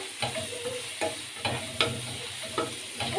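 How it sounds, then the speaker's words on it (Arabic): Sliced onions sautéing with a pinch of salt in a pan, a steady close sizzle broken by several sharp bursts as they are stirred, roughly every half second to second, with no talking. "عبال بقى ما تاخد كده تشويحه مع البصله، والبصله تاخد لون وتدبل شويه"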